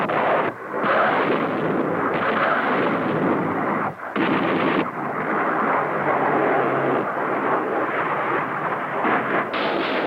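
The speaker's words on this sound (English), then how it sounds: "the concentrated firepower of rockets, missiles, bombs, and cannon reinforces that of rifles, machine guns, mortars, and grenades" Rockets, bombs and cannon fire of 1968-era tactical air power in combat make a continuous roaring barrage of blasts and rumbling detonations, loud and dense throughout, with brief gaps.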